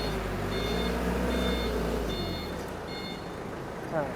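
A used Toyota 6FD25 2.5-ton diesel forklift with a 4-meter mast drives on a test run. Its reversing alarm beeps in a steady, evenly spaced rhythm over the low hum of the engine, with someone talking.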